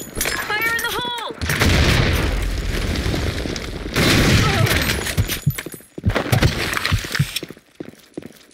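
Grenade going off in an online shooter game, loud heavy blasts with rumbling debris and gunfire around them, preceded by a short electronic tone, with chaotic bursts near the end.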